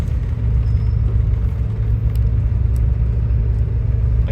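Trent Barton 713 bus engine rumbling steadily from inside the cabin while pulling out to overtake a bike, a loud, even low drone with faint clicks and no change in pitch.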